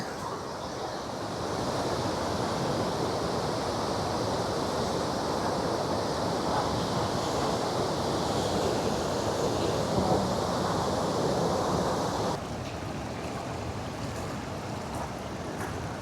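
Continuous roaring rush of fast-moving water in the Vanni region where fish are being caught, loud and steady, dropping slightly in level near the end.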